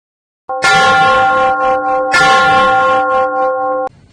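A bell rings loudly and close, a sustained tonal chime with strong clear harmonics that strikes again midway and rings for several seconds before cutting off abruptly.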